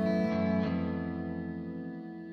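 Electric guitar sustained through a Neunaber Audio Elements reverb pedal, with a long washy reverb tail slowly fading after a struck chord, no voices.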